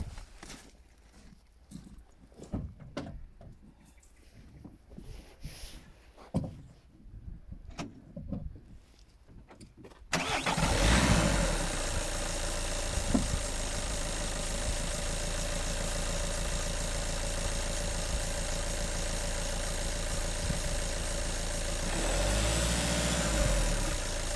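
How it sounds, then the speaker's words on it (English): Car engine turning over and starting as a driving vehicle for jump-starting a yoke with a weak battery, first some clicks and faint knocks, then a sudden start about halfway through settling into a loud steady idle. "So the next job now is to start the driving vehicle."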